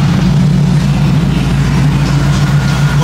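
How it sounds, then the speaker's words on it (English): A Dodge SRT engine idles loud and close, a steady deep rumble with no pauses and no voices. "Now I wanna crank up for y'all to see it."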